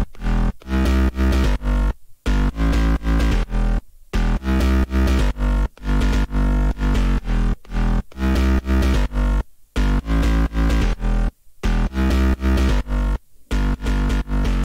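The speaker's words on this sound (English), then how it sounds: "your bass should sound like this" Layered distorted synth basses stacked with a deep sub bass in electronic music production, a loud, dense, gritty riff in rhythmic bursts separated by short silent breaks, heard alone.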